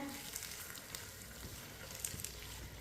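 Tomatoes cook on medium heat for Hyderabadi chicken biryani, giving a faint, steady sizzle and frying crackle throughout.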